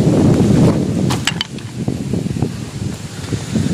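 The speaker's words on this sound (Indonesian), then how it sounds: "Ini mohon maaf ada angin gede juga," Strong wind gusts at the bank of the Bogowonto river in Purworejo buffet the microphone with a continuous deep rumble and uneven thumps, with a few faint higher clicks in between.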